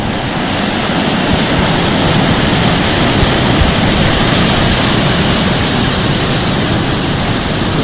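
Water rushes steadily through an aqueduct near a waterfall trail in Xico, Mexico, making a loud, continuous broadband roar that stays close and constant throughout, with no voices.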